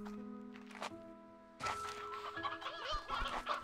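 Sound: chickens clucking in the video game Slime Rancher 2

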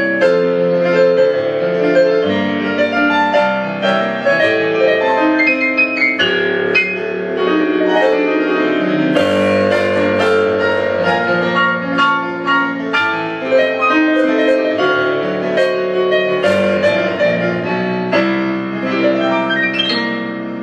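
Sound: Korg C-50G digital grand piano playing

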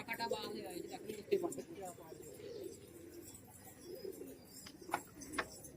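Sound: giribaz pigeons cooing

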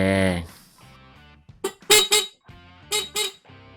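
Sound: motorcycle horn being tested

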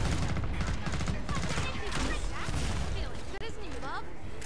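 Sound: gunfire in Killing Floor 2 video game

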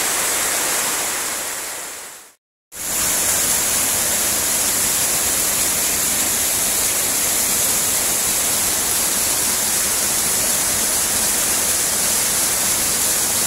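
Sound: Tumpak Sewu waterfall rushing water

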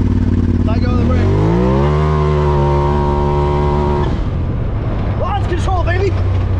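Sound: Polaris RZR side-by-side launching with launch control

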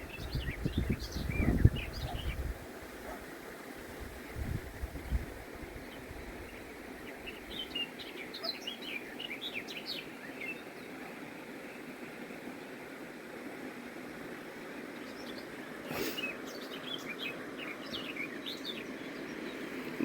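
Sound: bird singing outdoors

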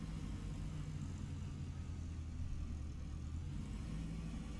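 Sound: Robinson R22 helicopter engine spinning up blades in X-Plane 12 video game

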